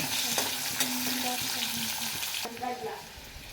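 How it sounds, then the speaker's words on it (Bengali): Potatoes fry in a wok with a dense, constant sizzle and occasional stirring scrapes, loud and close with no talk. "আলুটা আমি লাল লাল করে ভেজে নেব।"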